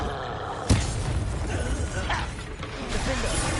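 A Confringo fire spell bursts in Hogwarts Legacy with a sharp crackling blast, followed by a dense, continuous layer of battle noise and mechanical clatter.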